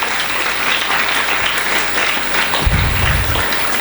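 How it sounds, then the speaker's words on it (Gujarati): An audience applauds to welcome a police sub-inspector at a cyber crime awareness event, a dense, steady clapping throughout with a brief low thump near the end. "જોરદાર તાળીઓથી આપણે એમનું અભિવાદન કરીશું"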